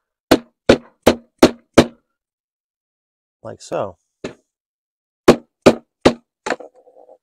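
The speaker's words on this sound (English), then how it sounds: "we're just going to bang it out with a hammer" A hammer taps a screwdriver five times in quick even strikes to knock out a seal during a valve cover gasket replacement on a 2012-2018 Ford Focus 2.0L, followed by a brief spoken phrase, then another run of four sharp taps.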